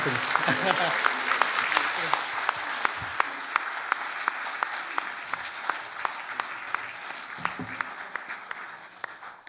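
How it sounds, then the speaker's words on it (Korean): A church congregation at a Sunday afternoon service claps steadily and warmly in a sustained, even round of applause that fades slightly at the end. "한번 큰 격려의 박수로 마무리하도록 할게요"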